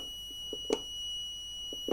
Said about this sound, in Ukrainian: але вимкнути зумер у нас не виходить